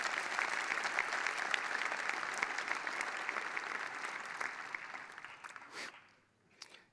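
Conference audience at a Vue.js Amsterdam event claps steadily for open source contributors, a sustained round of applause that thins and fades out near the end, followed by a brief isolated sound.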